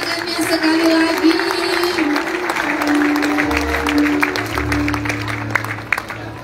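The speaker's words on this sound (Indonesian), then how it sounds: "Sekali lagi berikan tepuk tangan yang meriah" A crowd applauds at a city Christmas celebration attended by officials, a steady wash of clapping with crowd noise and a low hum underneath, continuing throughout.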